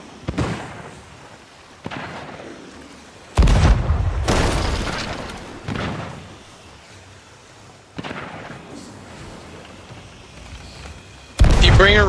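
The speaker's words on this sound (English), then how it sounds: "Maybe if you guys bring her to the shoreline, I can hit her with a cannon." Ship cannons firing in the pirate game Sea of Thieves, several heavy booms spaced a few seconds apart, each a sharp loud blast trailing into rumble, with quieter game noise between.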